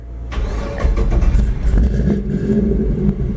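A 1949 Chevy pick-up with a 610 hp LS3 V8 cranking and firing up, the engine catching quickly into a loud, rumbling, close idle with a slight rev.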